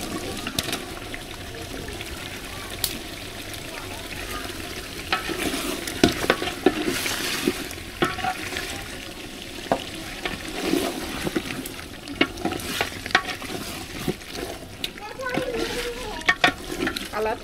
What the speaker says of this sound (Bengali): এবার দিয়ে দেবো ভেজে রাখা চিকেন।